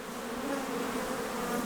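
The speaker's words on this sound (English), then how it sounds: "See how gentle these bees are?" Honeybees on a hive frame make a steady, dense buzz that holds continuously and fairly loud at close range, with no voices over it.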